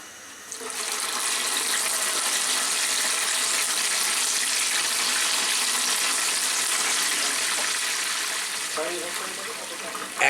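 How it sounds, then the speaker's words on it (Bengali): Chicken pieces dropped back into hot oil in a Chinese restaurant kitchen for a second fry, a loud, steady hissing sizzle that rises quickly, holds for several seconds, then eases off with a clatter at the end. "এখন এটাকে আবার ফ্রাইয়ে দিয়ে দেওয়া হবে"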